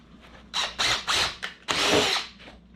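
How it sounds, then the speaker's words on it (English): A power drill pre-drills holes in wood for a chicken brooder build, revving in five or six short close bursts with brief pauses between, the last burst longest and loudest. "Pre-drilling holes to be able to cut."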